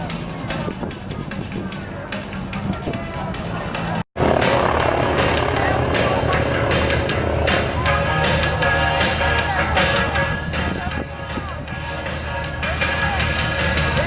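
T-28B Trojan aircraft fly in tight formation at an air show, their engines giving a loud, steady, broadband drone that cuts out briefly near the four-second mark before returning at full strength.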